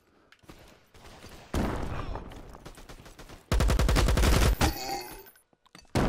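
Gunshots in the VR shooter Alvo: a dense burst of rapid automatic fire, loud and close, after quieter scattered shots and game noise, with a final shot at the end.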